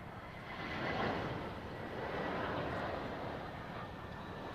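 An airliner arriving on runway 09L at London Heathrow, a broad continuous jet roar that swells and holds steady at moderate distance with no talk.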